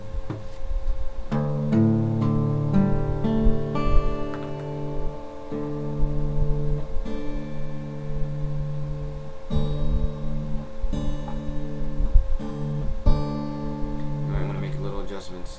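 Acoustic guitar freshly tuned for a lesson, strummed as steady chords that ring loud and close, with clear strings sounding alone throughout.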